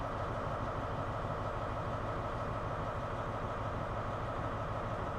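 A train running in the Train Sim World 5 game on a West Cornwall local route, heard as a steady, dense low rumble of engine and wheels, continuous and even throughout, with no speech.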